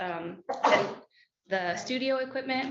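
A single loud sneeze cuts in close to the microphone during a board meeting, between stretches of a person talking.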